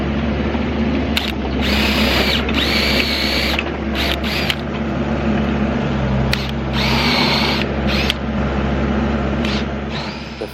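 A power drill bores stepped anchor bolt holes into a concrete slab for a post and beam barn, loud grinding bursts starting and stopping repeatedly over a steady motor drone, with no talking.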